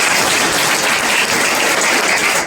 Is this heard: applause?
yes